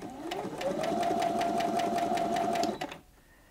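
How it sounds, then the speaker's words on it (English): A Brother Innov-is 15 sewing machine started and stopped by its start-stop button whirs up, stitches rapidly with a steady ticking rhythm for a couple of seconds, then halts, leaving quiet room tone. "use the start-stop button to start and stop sewing. Press it once to start sewing and once to stop."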